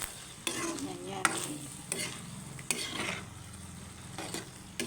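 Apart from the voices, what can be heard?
macaroni boiling in pot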